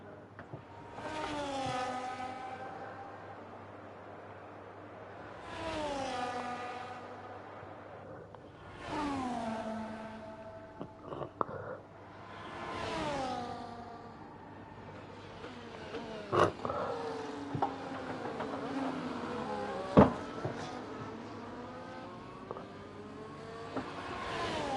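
A Ferrari race car engine in a realistic racing sim at the Austria round, qualifying, roaring through repeated loud revs that climb and drop every few seconds with gear changes, later joined by sharp clicks and bangs, with no talking.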